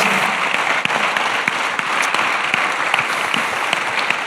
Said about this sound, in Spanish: Le damos un aplauso al Señor por la vida de los pastores.